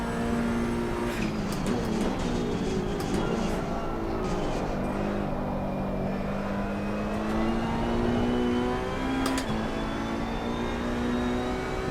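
An Italian GT race car engine in Assetto Corsa Competizione revs hard and steadily, its pitch climbing and dropping through gear changes as it accelerates, loud and close with no talk over it.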